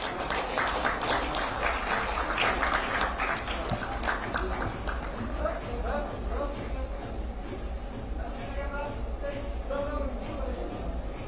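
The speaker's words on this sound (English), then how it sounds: "A big round of applause for Dr. Aba Amin" An audience at an eye-care medical conference in Chennai applauds in a dense, continuous wash of many hands that holds steady and loud for the whole stretch.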